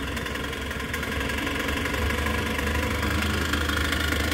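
A 1975 Casalini Sulky microcar engine idling after an electric key start, a steady, close, slightly knocking small-engine putter with constant vibration and no talking.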